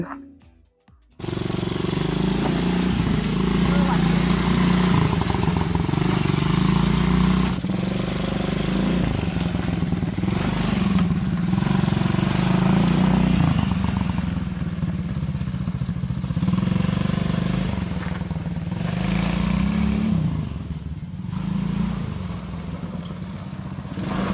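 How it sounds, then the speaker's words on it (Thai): An ATV engine runs at a mountain campsite, a close, steady low rumble lasting over twenty seconds with gentle swells in revs. "ไปเดี๋ยวเราไปขับ ATV กัน"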